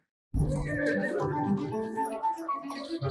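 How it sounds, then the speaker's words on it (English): Horses on a cobblestone street in a period TV drama: a loud, close neigh bursts in after a moment of silence, followed by a jumble of hoof and carriage clatter. "I love the sound of horses on a cobblestone street."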